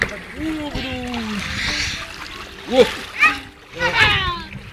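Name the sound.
jumping into pool water splash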